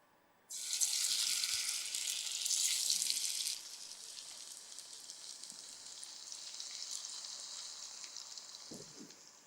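Slices of elephant yam drop into hot oil and set off a loud, steady sizzle close by, which settles to a softer, even frying hiss after a few seconds.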